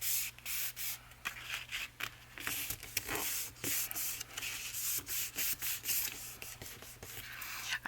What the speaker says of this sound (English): I have glue on my hands, so that's what I'm rubbing off of here.